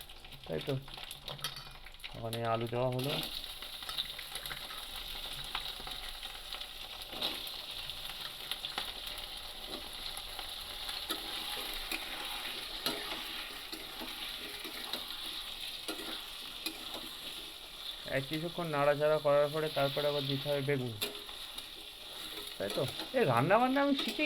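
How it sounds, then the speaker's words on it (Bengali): Eggplant sizzling in hot oil in a home kitchen, a steady frying hiss that runs throughout, with occasional stirring and a person speaking briefly near the start and toward the end. "গরম গরম তেলে সব দেওয়া হলো দিয়ে এখন বেগুন রান্না হবে"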